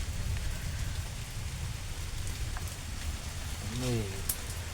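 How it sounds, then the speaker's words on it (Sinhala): Heavy rain pours outside a rock cave on Mawaragala hill in Dambana, a steady dense hiss of falling water, with a brief voice-like sound near the end. "අද නම් බෑ අද වහිනවා."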